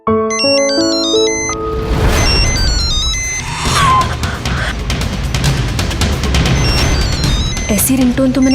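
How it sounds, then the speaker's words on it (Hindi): A phone ringtone plays a bright electronic melody, loud and near, then gives way to a dense crash and a roaring rush of noise that fills the rest of the scene. "ऐसी रिंगटोन तो मैंने ट्रायल रूम के बाहर सुनी थी।"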